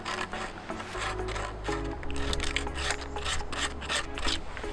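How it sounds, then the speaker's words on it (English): A coarse 60 grit sanding block scrubs back and forth over a wooden bedframe, making a close, gritty rasping in quick repeated strokes that continues steadily with no voices. "I can also use a sanding block for any of these areas. It's gonna do the exact same thing, or the coarse 60 grit"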